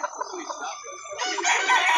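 Chickens and roosters at a poultry sale in Calauan, Laguna, with close clucking that swells into a loud crow, brief and dense.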